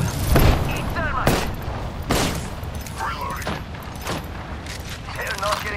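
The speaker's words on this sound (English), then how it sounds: "Fire in the hole! Eat thermite!" Thermite grenade explosion in the battle royale game Apex Legends, with a heavy blast near the start followed by sharp repeated bangs and mechanical clanks, under a busy combat din.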